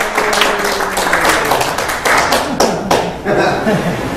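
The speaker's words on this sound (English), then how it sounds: "Big round of applause for Dennis." An audience at a monthly networking meeting claps for a speaker taking the floor, with a bright burst of close clapping mixed with cheers and light laughter, tapering off near the end.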